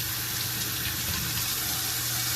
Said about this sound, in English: You wash the ginger properly, because all this is going to be going into the pot.